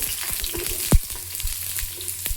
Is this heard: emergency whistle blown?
no